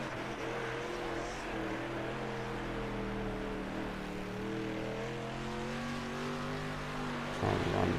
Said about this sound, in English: Just trying to use that throttle there to help the car out.